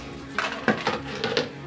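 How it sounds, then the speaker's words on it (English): Several light plastic clicks and knocks as the bottoms of plant pots are popped out, four or five quick hollow taps close by, no talking. "I have pots here that I can pop out the bottom like so."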